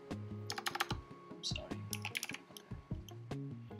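Quick, uneven bursts of keystrokes clatter on a computer keyboard during Flutter setup on a Mac, close and crisp, over a steady tonal background.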